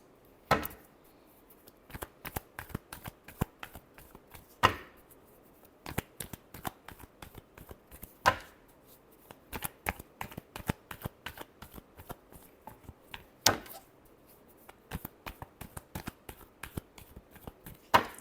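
Tarot cards being shuffled by hand, a steady run of crisp riffling flicks with a few sharper slaps, close and alone without talk.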